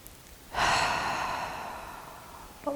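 One long breath during a yoga twist, a soft airy exhale that swells suddenly, then slowly fades, close and quiet, with a faint breath starting again at the end.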